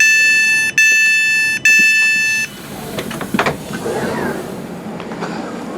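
Inside the carriage of a moving Southern Class 455 train: a loud electronic tone sounds in two steady bursts, then the steady rolling rumble of the coach continues with sharp rattles and clunks.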